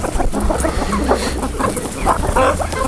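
Several backyard chickens cluck and squabble over a tossed, slightly spoiled tomato, their busy overlapping clucks and short calls close and loud in an irregular flurry.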